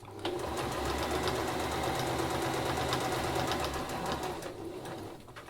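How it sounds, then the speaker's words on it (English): A sewing machine runs steadily, stitching seams on a fabric drawstring bag, its rapid needle rattle continuous and close for several seconds before easing off at the end. "just machine stitch it"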